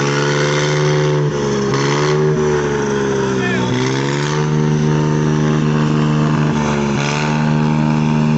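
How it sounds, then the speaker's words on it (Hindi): A tractor engine runs at night, a loud, steady droning hum whose pitch dips and rises a few times as it revs, with voices heard faintly over it. "इधर ट्रैक्टर भी है साथ में।"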